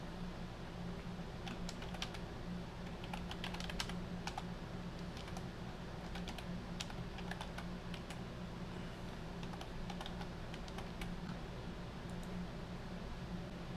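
A username and password are typed on a computer keyboard: steady, soft, close key clicks run throughout over a low hum, with no voices.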